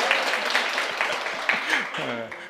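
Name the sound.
audience clapping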